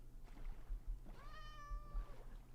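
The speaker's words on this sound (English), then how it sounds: "That's a cat noise there." A single meow from a cat in the video game Minecraft, short and moderately clear above a low rumbling game background, with no talking.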